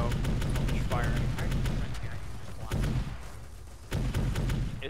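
Dense, loud gunfire from the Arma 3 video game in a Warhammer 40k combat drop scenario, rapid repeated shots with heavy low-end booms continuing through the whole stretch.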